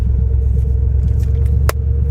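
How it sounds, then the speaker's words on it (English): A Dodge Diplomat sedan drives along with a low, rhythmic rotating clunk from its dragging brakes, a steady rumble of road and engine underneath and a short sharp knock near the end. "So I do hear some sort of rotating clunking."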